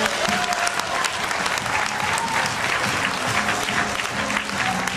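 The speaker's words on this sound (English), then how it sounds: "Now, give Rocky some applause" Seminar audience gives sustained, dense clapping that fills the room evenly for several seconds, with faint voices beneath.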